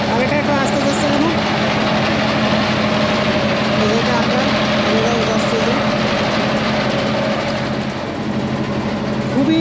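A trawler boat's engine drones steadily as it motors across the lake toward Rangamati, a constant loud chugging hum that holds without a break for the whole stretch.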